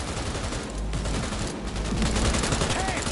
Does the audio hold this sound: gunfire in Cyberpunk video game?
yes